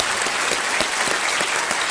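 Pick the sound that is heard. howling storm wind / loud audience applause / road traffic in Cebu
loud audience applause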